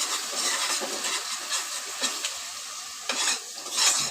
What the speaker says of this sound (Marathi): मी घालते आल्या लसूणची पेस्ट मी घालते निंब मसाले पण घालायचे त्यात आणि परतून द्यायचं सगळं